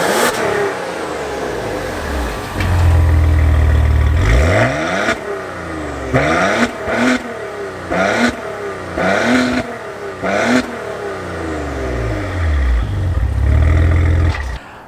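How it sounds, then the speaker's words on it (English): A Maserati Levante SUV with an active quad exhaust revs in sport mode, giving several loud, close throttle blips that rise and fall in pitch, heard alone without talk. "that exhaust got a little bit louder when you turn on the sport mode"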